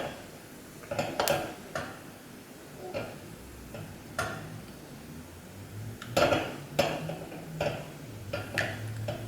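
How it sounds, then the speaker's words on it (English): Mustard seeds spluttering in hot oil in a pan while cooking a Kerala prawn and green mango curry: irregular sharp pops and ticks scattered over several seconds, close and fairly crisp, with no talking. "So once it starts spluttering, like now, that means it's almost ready."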